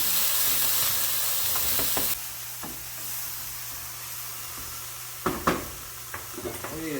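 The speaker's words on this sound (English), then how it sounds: "Tablespoon of brown sugar. Caramelize the onions." Onions caramelize with brown sugar in a pan, a steady sizzle that softens after a couple of seconds, broken by scattered clinks and scrapes of stirring near the end.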